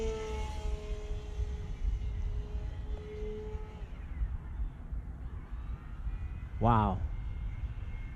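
P-51 airplane engine in flight, a constant low rumble with fading tonal whine, under a brief spoken exclamation near the end.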